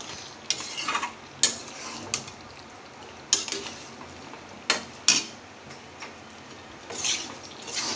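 Ground peanut paste stir-fried in a pan for biryani, a low soft sizzle broken by sharp scraping and tapping strokes of a spoon at irregular intervals, close and fairly quiet, with no talk.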